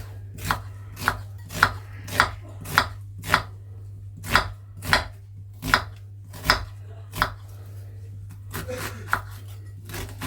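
A knife chops vegetables into small pieces on a board in about fifteen sharp, evenly spaced strokes, close and clear over a low steady hum, with no talking.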